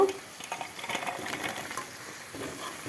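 Potatoes with onion, green chili, turmeric and soya chunks sizzle softly in a pan while being stirred, with gentle scraping and crackling throughout, fairly quiet and close.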